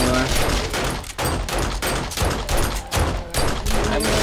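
Rapid video-game gunfire during a horde-night battle in 7 Days to Die, loud bursts in quick succession with brief gaps, close and dense, with a voice talking over the shooting.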